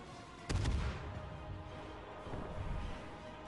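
A heavy warship gun salvo booms once in the naval video game World of Warships, likely from the Leningrad, a quiet, deep blast followed by a low rumbling tail and faint background noise.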